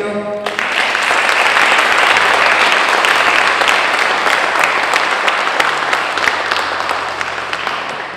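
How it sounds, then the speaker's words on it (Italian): Sustained audience applause at a poetry book presentation, a thick, even wash of many hands clapping that starts abruptly and carries on strongly for several seconds with little talk. "vorrei un altro applauso"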